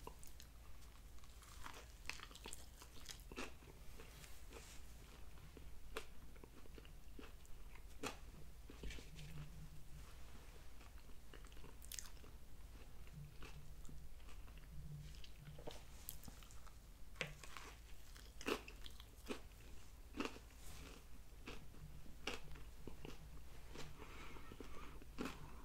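Chick-fil-A spicy chicken sandwich on a fresh bun being eaten up close, with soft repeated bites, chewing and wrapper crinkles across a steady quiet background, and no talking.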